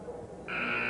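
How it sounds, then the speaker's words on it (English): A basketball game buzzer sounds during a technical free throw in a league game between the Sixers and the Hawks. A steady, loud electronic tone starts midway and holds to the end over the background gym noise. "He got the buzzer right in the middle of a technical shot"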